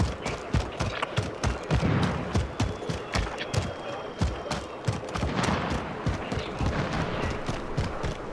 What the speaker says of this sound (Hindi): यहाँ भी गोली चल रही है।